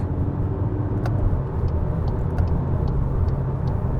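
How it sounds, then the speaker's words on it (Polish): A 2025 Cupra Formentor 2.0 TDI 150 hp diesel engine drones steadily and loud from close by while downshifting and accelerating to overtake, a continuous low rumble with road noise and no talking. "Wyjeżdżamy z zabudowanego, wyprzedzanie, jeden bieg w dół"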